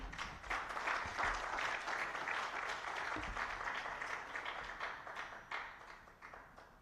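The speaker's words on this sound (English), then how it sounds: "Another round of applause for the European Union, ladies and gentlemen" Sustained applause from the audience at a World Wildlife Day 2021 conservation event, a dense wash of many hands clapping steadily for several seconds at moderate loudness, tapering slightly toward the end.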